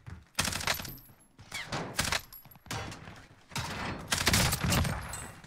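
Bursts of gunfire punching through a wall in Call of Duty: Warzone, several loud dense volleys separated by short gaps, heard alone without talk.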